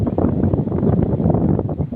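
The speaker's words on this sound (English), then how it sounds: "It's getting a bit windy though, so I'll have to talk loudly." Gusty wind buffets the microphone outdoors in Glenrowan in a low, rumbling roar that rises and falls without pause.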